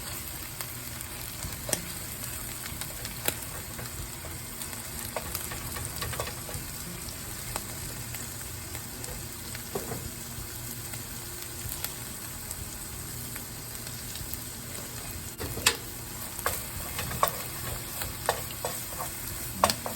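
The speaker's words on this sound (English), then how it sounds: "Stir that around in the center, about a minute or so." Eggroll in a bowl mixture frying in a pan and stirred around, with steady sizzling throughout and scattered scrapes and clicks of the utensil, no talking.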